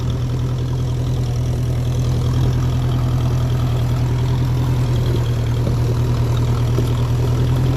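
A 1957 Ferguson 35 tractor running on TVO, its engine idling steadily with a loud, continuous low rumble and hum that holds constant throughout.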